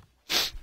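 A single sharp sneeze bursts out after a short quiet moment, loud and close, followed by a faint breathy trailing sound.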